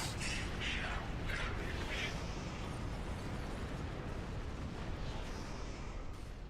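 Torpedoes detonate in Star Trek Online, giving a dense, continuous rumble of overlapping explosions and booms that stays loud throughout with little break.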